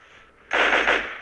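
A short burst of rapid gunfire in the video game Stalker 2 starts abruptly after a moment of low background noise, dense and loud for about a second.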